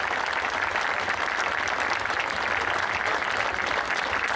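Steady, dense applause from a large audience at a live show in Mussomeli, continuous and fairly loud throughout with no pause or voices over it.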